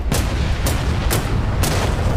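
Gunfire in the combat flight simulator DCS World: four sharp, evenly spaced shots crack out over a constant low rumble, each with a short broadband burst.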